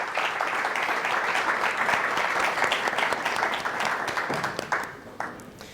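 An audience applauds to welcome a speaker at a literary salon event at AUB, a sustained, dense clapping from a whole room that stays steady, then thins out and fades near the end.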